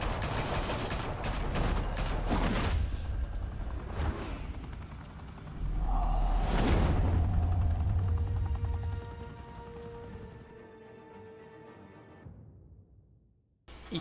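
A burst of gunfire in the Batman Telltale game: a quick volley of sharp shots up front, then heavier blasts and impacts, a swelling rumble with debris, fading to quiet near the end.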